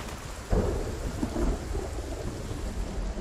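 Thunderstorm in the Project Zomboid video game, set in Muldraugh, Kentucky: a steady wash of heavy rain with a deep thunder rumble rolling in about half a second in and lingering throughout.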